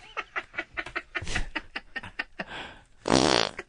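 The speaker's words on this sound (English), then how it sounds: "A straight, straight fart." A short fart played as part of a radio show guessing game, a clear buzzing blast near the end, preceded by a run of quick puffy bursts and faint snickering.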